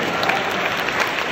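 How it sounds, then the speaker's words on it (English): An audience at an expo speech breaks into brief, dense clapping, a loud wash of applause with a faint voice mixed in. "Y'all should have been clapping at that."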